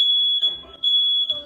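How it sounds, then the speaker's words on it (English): A household fire alarm shrieks in a steady high electronic tone, beeping in repeated long pulses with brief gaps, loud and close, alone. "fire alarm. Thing goes off like every single day."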